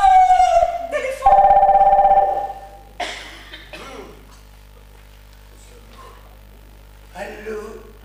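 A telephone rings during a stage play in a theatre, a steady electronic trill heard up close, followed by scattered voices and faint stage noise.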